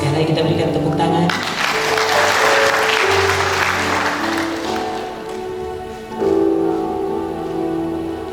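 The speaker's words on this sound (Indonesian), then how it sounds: "Sekarang kita berikan tepuk tangan." Audience at a graduation ceremony (wisuda) clapping together in a sustained, dense burst of applause that swells, dips briefly and resumes, with a voice talking over it and some tonal sound underneath.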